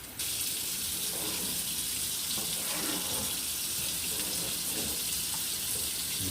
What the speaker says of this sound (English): You can just run some water on them.